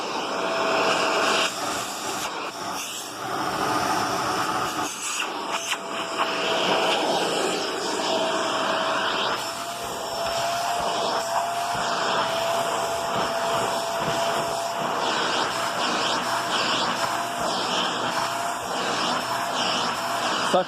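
A Shark DuoClean Power Lift Away Speed vacuum cleaner runs continuously with a loud, close, breathy motor roar and a faint high whine that hold steady throughout, with brief dips in level.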